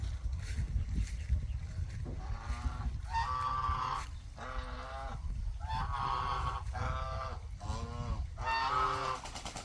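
Domestic geese honking at close range, a series of nasal, repeated calls in rhythmic bursts over a steady low background rumble.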